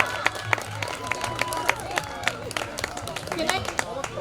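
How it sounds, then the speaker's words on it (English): Scattered clapping from an audience at an outdoor Juneteenth celebration, sharp individual claps rising over a bed of crowd murmur and chatter. "Can I huge round of applause for Sheffy"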